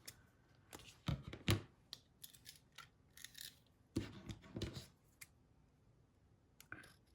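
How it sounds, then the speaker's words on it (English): Scissors snip through stiff 12-inch scrapbook paper in irregular bursts of crisp cuts and clicks, with quiet pauses between, close and fairly faint. "I'm just going to use my scissors"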